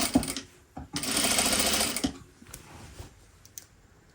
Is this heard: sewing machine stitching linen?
yes